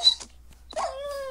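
A dog in the Minecraft video game makes short yips and whimpering barks, the first brief, then a longer whining tone, heard close and fairly loud with no talk over it.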